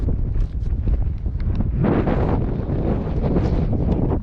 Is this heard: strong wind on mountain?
yes